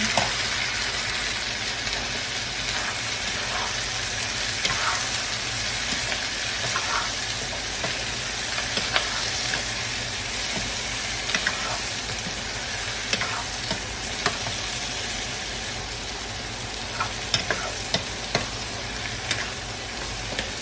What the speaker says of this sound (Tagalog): Habang niluto natin ang ating hipon hanggang mag-orange na yan